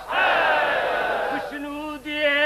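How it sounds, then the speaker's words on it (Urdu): A large congregation at a Muharram gathering in Lahore roars a loud, unified chanted reply to a religious slogan, one sustained massed shout followed by shorter rising bursts of voices. "آپ سے یہ گزارش ہے کہ نعرے کا جواب بلند آواز سے دیجیے"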